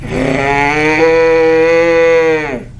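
An anime boy character gives a long, loud, drawn-out cow-like moo, a voice imitating cattle that holds steady before trailing off at the end.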